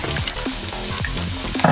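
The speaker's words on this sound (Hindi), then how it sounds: "अंडों को बहुत ज़्यादा नहीं फ्राई करना है, थोड़ा थोड़ा फ्राई करना है" Eggs and potatoes fry together in a pan, a steady close sizzle under repeated scraping stirs of a spoon, with no voices.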